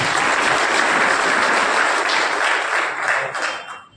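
A meeting audience on Maharashtra Day gives a dense, loud round of applause that holds steady and then fades out near the end.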